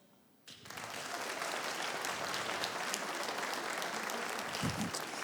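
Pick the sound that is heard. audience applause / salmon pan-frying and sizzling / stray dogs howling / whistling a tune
audience applause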